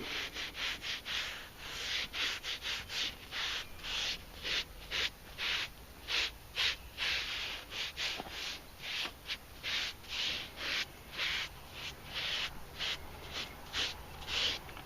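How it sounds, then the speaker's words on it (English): Color dye being rubbed by hand into a cracked leather Mercedes seat, producing a steady series of soft, close, rhythmic rubbing strokes that continue throughout with no talking. "You're just kind of rubbing it in, and then later on you'll come back and buff all the excess off."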